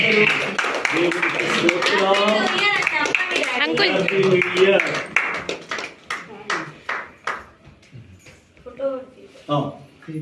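At a New Year all-night church prayer, the congregation claps after the cake is cut: irregular bursts of many hands, close and lively, following and mixing with loud voices speaking.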